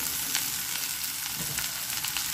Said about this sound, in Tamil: இப்போ நான் வந்து இதுக்கு நான் கட் பண்ணி வச்ச லீவ்ஸையும் கட் பண்ணி வச்ச கேரட்டையும் நான் இப்போ ஆட் பண்ணிக்கிறேன்